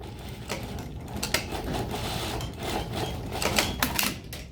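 A sewing machine stitching across the top of an open-ended lap zipper on a bustier gives a steady mechanical chatter with small clicks and louder bursts of activity, heard close up with no voices.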